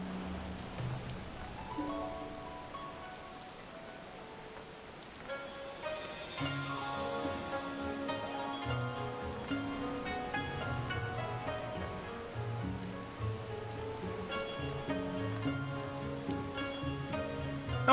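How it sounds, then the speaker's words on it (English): Steady rain falls in Final Fantasy XIV, a soft continuous patter laid under game music that carries on throughout without a break. "Now it's raining."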